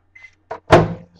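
A microwave oven door gives a faint click, then a brief latch sound and a louder close thunk, all near and clear in a quiet room.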